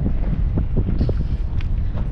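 Gusty wind on a mountain in Jeddah, Saudi Arabia, buffets the microphone with a low, rumbling roar, steady and loud across the whole moment, with faint thumps underneath.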